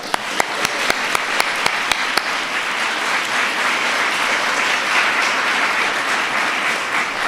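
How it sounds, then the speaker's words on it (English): A large crowd of military families at a White House holiday event applauds in a full, sustained wash of clapping, with a few sharp, louder claps standing out near the start. "let's give them a round of applause"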